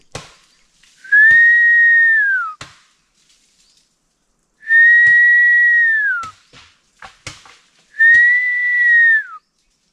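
Three long, steady whistled notes, each ending in a downward slide and separated by pauses, come from a person imitating forest bird calls in the Konkan. The whistles are near and loud, with a few faint clicks between them and no talk.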